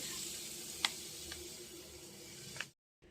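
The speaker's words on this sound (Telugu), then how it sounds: "నువ్వు పప్పు వేయించుకోవాలి" Sesame seeds and lentils dry-fry in a pan with a soft, steady sizzle punctuated by a few light ticks, then the sound cuts off abruptly to silence.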